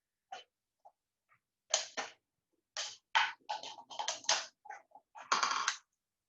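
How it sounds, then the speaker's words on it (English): Scissors snipping around a plastic water bottle to cut it in half, giving a series of sharp crackling cuts in irregular bursts, some closely clustered, close up and with no talk. "You'll just stick the scissors inside and cut all the way around the edge."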